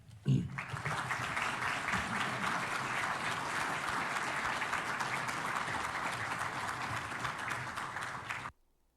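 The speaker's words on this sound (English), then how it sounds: "Why are they clapping?" Sustained applause from a sizable audience, dense and steady from start to finish before cutting off abruptly near the end, loud and close with no talking over it.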